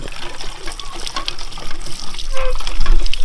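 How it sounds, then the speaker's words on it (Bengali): Water gushes steadily from a tap into a white bottle in a Sundarban village, a continuous splashing fill that grows slightly louder toward the end, with faint voices in the background. "সাদা বোতল ভরুন একটা"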